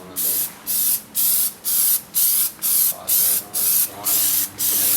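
Repeated short bursts from an aerosol can as a second coat of Plasti Dip goes onto a Mercedes-AMG E63 S grille, about nine evenly spaced hissing sprays, close and loud, with brief gaps between them.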